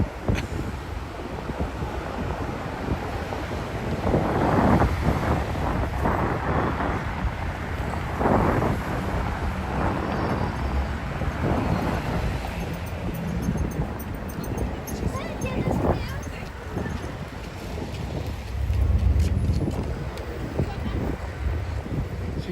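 Gusty wind on a cold Upper West Side street in New York City near Broadway, blustering steadily and loudly against the microphone in rising surges, with a voice speaking over it.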